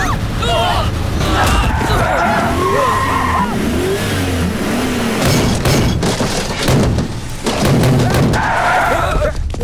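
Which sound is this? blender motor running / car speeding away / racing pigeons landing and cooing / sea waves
car speeding away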